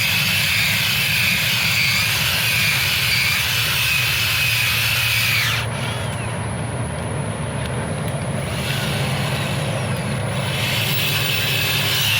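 A power drill whines loudly and continuously, its pitch shifting midway as it bites through metal, a sustained close mechanical drone.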